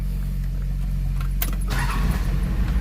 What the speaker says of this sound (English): Starts right up as she should.